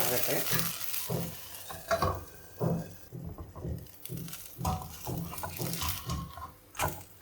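Rice batter breakfast sizzles in oil on a pan after being flipped, with close, uneven frying crackles and repeated soft stirring or pressing sounds throughout.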